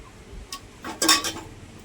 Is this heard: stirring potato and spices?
yes